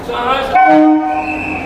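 A train horn sounds at a railway station in Jharkhand, a sustained tonal blast that shifts pitch over under two seconds against rumbling rail noise.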